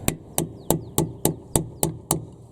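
A hammer strikes a flathead screwdriver driven against the rear brake caliper of a Mini R53 Cooper S, giving eight sharp metallic blows at an even, steady rhythm. The blows are close and loud, with no talking.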